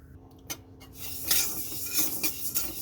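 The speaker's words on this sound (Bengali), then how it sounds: "তো শুকনো কড়াইতে ডালটা ভেজে নিচ্ছি।" Mung dal being dry-roasted in a dry wok, with stirring and scraping against the metal pan in uneven, repeated strokes. The sound is close and moderately loud, with no talking.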